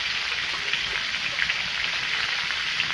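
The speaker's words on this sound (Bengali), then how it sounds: "তেলটা গরম হয়ে গেছে, দিয়ে দেব আলু সজনে ডাঁটা।" Potatoes and drumstick pieces frying in hot oil for a fish curry, giving a steady, dense sizzle with small crackles throughout, close and without talk.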